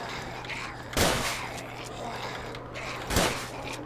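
Two loud shotgun blasts roughly two seconds apart in the survival game Survive the Nights, each a sharp broadband crack over a low steady hum, during a horde night.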